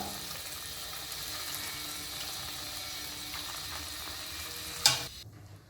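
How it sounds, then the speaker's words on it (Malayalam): Cooked chicken soup poured into a pan of sautéed onions for a homestyle chicken soup, giving a steady close sizzle and stirring with liquid splashing throughout, then a sharp clatter near the end before it quiets. "നമുക്ക് വേവിച്ച് വെച്ചിരിക്കുന്ന സൂപ്പ് ഇതിലേക്ക് ആഡ് ചെയ്ത് കൊടുക്കാം."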